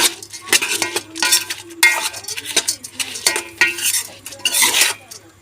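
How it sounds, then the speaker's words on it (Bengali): A spoon scoops food in a pan, making repeated close scraping strokes and light metallic clinks over a faint sizzle, in an uneven rhythm. "আমরা চামচ দিয়ে নিয়ে নিচ্ছি।"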